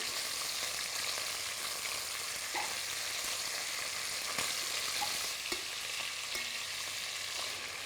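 Chicken pieces frying in hot oil with a little pepper, browning in a pot for a Réunion-style calebash chicken curry; steady close sizzling crackle throughout with occasional stirring clicks, no voices.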